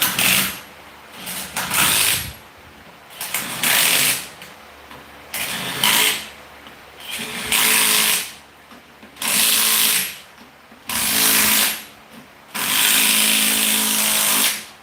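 A small impact wrench running in repeated bursts, loud and close, each one to two seconds long with short pauses between, about seven bursts in all and no talking.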